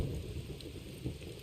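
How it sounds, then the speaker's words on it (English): Steady rain falls outdoors on a foggy morning by a lake, a dense, even hiss with a low rumble underneath, heard alone without talk. "Listen to the rain."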